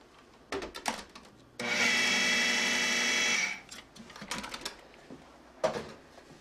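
An electric mixer blends coffee cake batter of sour cream and flour mixture, a loud high whirring burst of about two seconds set between soft clatters and bowl knocks.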